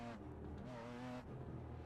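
BMW M4 GT4 G82 race car engine in iRacing, a loud close drone whose pitch climbs under acceleration, then drops sharply at a gear change before pulling again.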